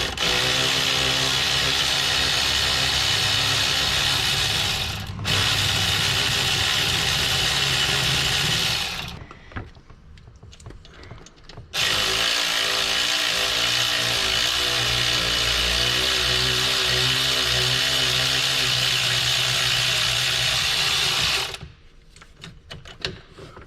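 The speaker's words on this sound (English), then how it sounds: "3/8 adapter, so that way I can use my electric ratchet." An electric ratchet on a 3/8 adapter removes an alternator bolt on a GMC 3.6 V6, whirring loudly and steadily in two long runs with a brief stop between them and quieter tool handling afterward.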